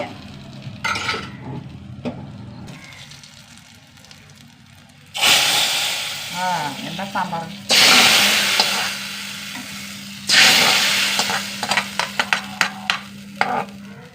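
Dried chillies fry in hot oil with mustard seeds, fenugreek and curry leaves for sambar: a steady sizzle with stirring scrapes, swelling into loud crackling bursts several times as the pan is worked.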